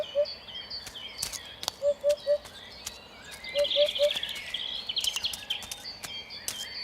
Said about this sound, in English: A pair of hoopoes returned from Africa a week ago.